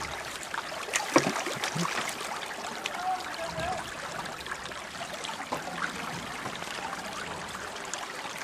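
Creek water flowing through a gold sluice at a gravel creek bed, a steady close trickle and splash with small rushes, with no talk.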